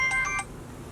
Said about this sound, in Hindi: फोन आइल है